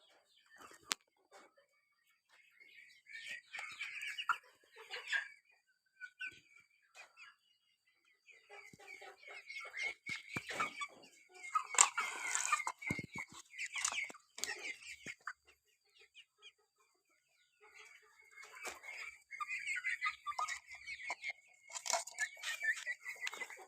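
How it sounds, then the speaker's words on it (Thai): Four Thai fighting-breed chicks, one male and three female, peep and cluck softly with other chickens in scattered, faint bursts separated by quiet stretches. "ชุดนี้มีลูกไก่ อยู่ 4 ตัวนะครับ ตัวผู้1ตัว ตัวเมีย 3 ตัวนะครับ"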